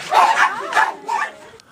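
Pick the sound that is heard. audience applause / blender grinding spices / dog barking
dog barking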